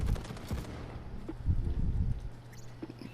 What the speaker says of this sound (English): you can just spam the rest of your shots until you reload